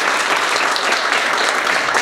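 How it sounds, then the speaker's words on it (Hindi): A classroom audience at a mobile hardware training course claps together in a strong, steady round of applause, many hands blending into a continuous loud patter. "एक बार जोरदार ताली मिलन सर के लिए"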